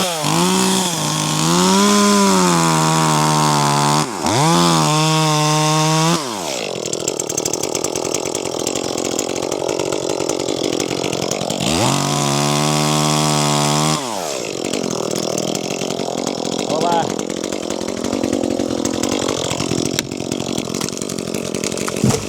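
A chainsaw cuts into a log, revving loud and close, bogging and rising in pitch through repeated bursts, with short idle dips between cuts.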